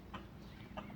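A hen gives a few soft, short clucks close by after jumping out of her enclosure, with a low background hum.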